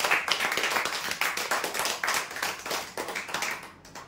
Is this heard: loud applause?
yes